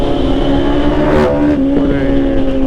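Motorcycles pass quickly on a hazy road, heard as a loud, steady engine drone with a couple of brief whooshing swells partway through.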